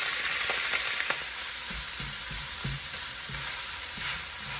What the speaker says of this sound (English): So my oil is nice and hot. What I'll do, I'll just add in the pieces of saltfish.